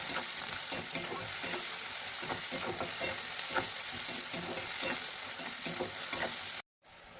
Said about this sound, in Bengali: এর মধ্যে আমি দিয়ে দিলাম পরিমাণ মতো নুন দিয়ে আবার ভালো করে কষা করব। এই মাছ রান্না করতে গেলে একটু তেল বেশি লাগবে।